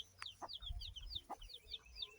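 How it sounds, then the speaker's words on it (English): Chickens and chicks foraging on a rural homestead, giving repeated soft clucks and high chirping peeps at a steady, busy rhythm. A few sharper calls stand out close by, with faint low rumbling underneath. "Beautiful chickens and baby chickens foraging."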